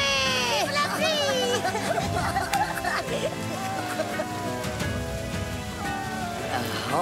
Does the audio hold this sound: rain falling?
yes